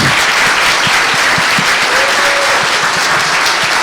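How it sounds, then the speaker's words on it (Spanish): Warm audience applause welcoming a lecturer at an inaugural school-week talk, dense and loud clapping from a packed room that stays even from start to finish. "les pido el más caluroso de los aplausos para don Miguel Launer"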